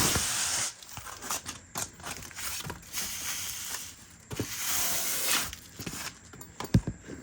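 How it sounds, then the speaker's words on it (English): Plastic packaging crinkles and tears as a suede Coach Bleecker bucket bag strap is unwrapped, with steady close rustling broken by sharper rips and crunches throughout. "I guess let's unwrap the strap."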